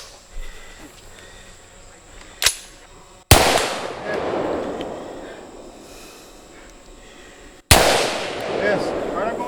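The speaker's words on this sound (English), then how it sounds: "Come on, got 2 shots on steel right here." Gunshots ring out at an outdoor shooting exercise, with one sharp crack followed by two loud booming reports that decay into long echoing rumbles, fairly close, with no clear voices.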